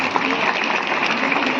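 Crowd applause at a tribal community celebration with bhajans marking the Ram Mandir inauguration, honouring President Droupadi Murmu; a dense, even roar of many hands clapping, loud and continuous, with faint crowd voices mixed in.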